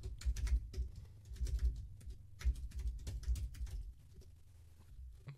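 Form details are typed on a computer keyboard, a soft and fairly quiet run of key taps arriving in irregular bursts with short pauses, close by and with no talk.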